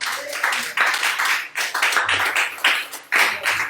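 Church congregation clapping in acclamation of the Lord during an evening worship service, a steady run of dense, close hand claps with bright bursts, filling the whole stretch without words.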